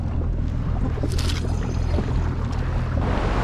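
A jet ski trolling slowly at about 10 km/h while fishing offshore, its engine a steady close rumble with water swishing and wind noise, no talk.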